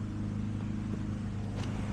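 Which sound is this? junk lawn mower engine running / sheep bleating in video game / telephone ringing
junk lawn mower engine running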